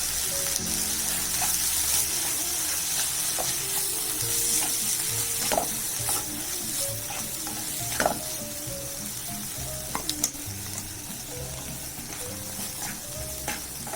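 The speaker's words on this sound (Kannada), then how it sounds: "ಇದು ಚೆನ್ನಾಗಿ ಫ್ರೈ ಮಾಡ್ಕೋಬೇಕು." Ground onion paste with garam masala frying in a pan for mutton keema curry, a steady close sizzle with occasional stirring scrapes and clinks, no talk.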